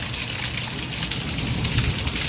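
Heavy rain pours during a dangerous storm in Abilene, a loud, steady, dense hiss of drops on surfaces that fills the whole stretch with no pause and no voices.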